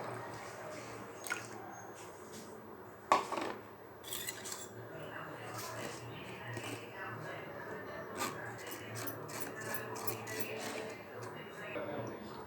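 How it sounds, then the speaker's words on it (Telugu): Tamarind juice is strained into a bowl for pani puri, with soft wet rubbing and squishing, gentle dripping and occasional taps, faint and close, under quiet talk. "మిగిలిన చింతపండు రసం కూడా దీంట్లో ఫిల్టర్ చేసేయండి."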